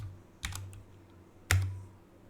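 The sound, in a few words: typing on a computer keyboard writing an HTML header tag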